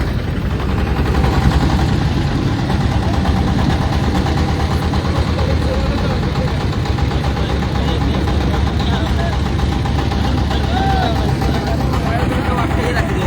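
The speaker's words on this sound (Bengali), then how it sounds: "আসলে ট্রলারের আওয়াজে আমার লাইভে কথোপকথন হয়তো খুব ভালোভাবে বোঝা যাবে না" A trawler boat's engine runs steadily on a flood-relief trip through a flooded village in Cumilla, Bangladesh, a loud continuous low rumble and vibration filling the whole stretch, with voices faintly underneath.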